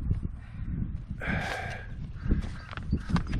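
A person imitates a crow's caw, one hoarse croaking call in the middle with breathy sounds and soft vocal noises around it.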